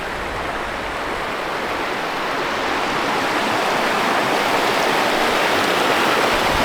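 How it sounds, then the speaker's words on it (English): Continuous rushing creek water near a campground in Saguaro National Park, Arizona, with a steady broadband hiss, loud and close, heard alone with no voices. "There is an awesome looking creek not too far away"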